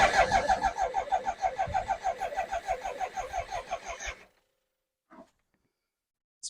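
A BMW K100 motorcycle engine cranks on the starter without catching, a rapid, rhythmic churning of close, loud pulses lasting about four seconds, then stopping abruptly, followed by silence and a couple of small clicks.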